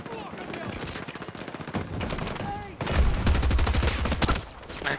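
Rapid automatic gunfire in a multiplayer shooter with snipers, loud and close, with sustained bursts that grow heavier in the second half and shots crackling throughout.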